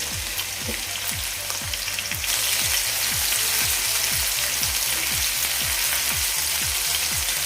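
Chopped tomato fries in a pan until soft. A steady, dense sizzle grows louder partway through, with rhythmic low ticking underneath and no speech.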